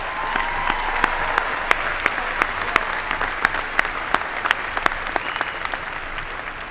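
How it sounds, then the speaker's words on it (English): A graduation ceremony audience applauds steadily, a dense wash of clapping from many hands with individual sharp claps popping out, sustained and even throughout. "Let's give them another round of applause."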